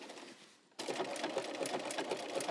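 A sewing machine runs a blanket or embroidery stitch around fusible appliqué on a rolled-up quilt top. It starts after a brief pause and then whirs steadily and close up, with a fast mechanical chatter.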